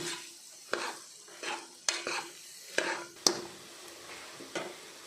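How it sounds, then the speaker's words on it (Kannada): Vangibath ingredients fry in a pan while a spoon stirs them, making about seven rhythmic scraping strokes with sharp metallic clinks over a faint sizzle. "ಇದನ್ನು ಫ್ರೈ ಮಾಡಿಕೊಳ್ಳುವ."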